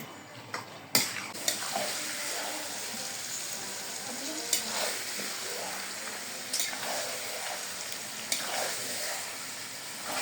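Mutton sizzling in a pot on a stove, a continuous loud frying hiss with periodic stirring scrapes and clanks as the meat is turned.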